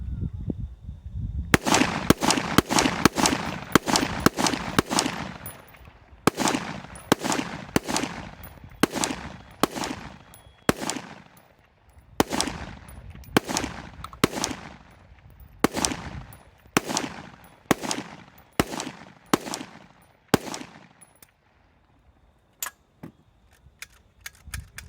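Rifle firing 7.62x39 rounds at splatter targets outdoors, a long run of sharp, loud single shots in uneven rhythm, some close together, with brief pauses between bursts.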